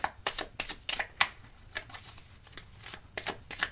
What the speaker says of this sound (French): si je coupe le jeu, si je fais tomber des cartes